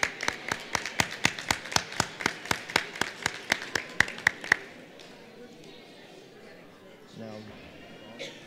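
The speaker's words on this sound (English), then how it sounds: "Let's give him a big round of applause" At an Asian New Year live event, the audience claps in an even, steady rhythm of about seventeen crisp beats, then it falls quiet into soft room noise and a brief voice.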